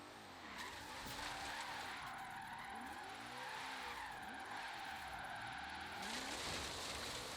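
A car drifts in the racing game Forza Horizon 3, giving continuous tire squeal and skidding with a sustained engine roar through most of the stretch, loud and close, no voices.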